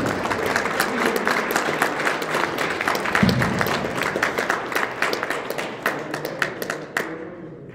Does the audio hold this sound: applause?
yes